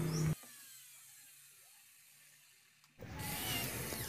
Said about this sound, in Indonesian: kita lubangi untuk tempat sekrupnya ya